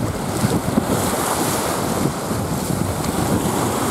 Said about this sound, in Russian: Что-то море волнуется.